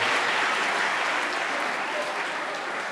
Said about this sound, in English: Clap for yourself, it's a promise